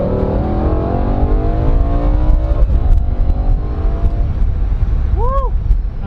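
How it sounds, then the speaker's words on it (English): BMW V10 M5 pulling hard with its SMG single-clutch gearbox, a loud rising engine drone heard from inside, then a break in the note as the gear changes, with a person speaking over it. "That single clutch gearbox is crazy."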